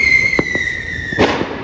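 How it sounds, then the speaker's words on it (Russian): New Year's fireworks go off nearby with a falling whistle and several sharp bangs and crackling bursts over a constant background of distant explosions. "Они весь салют, что ли, скупили."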